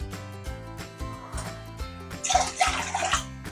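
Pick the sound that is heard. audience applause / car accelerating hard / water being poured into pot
water being poured into pot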